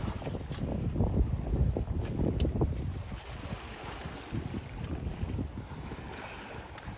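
A sailboat moving offshore through moderate waves on a long solo passage, with steady water wash and wind buffeting the microphone, a rough continuous rush that swells and eases, no voices.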